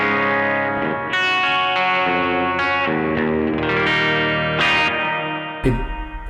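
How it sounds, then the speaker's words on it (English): Electric guitar run through a reverb pedal, sustained chords ringing out with a washy ambient tail, played loud and alone with a few sharp strums near the end. "And then if I apply some reverb,"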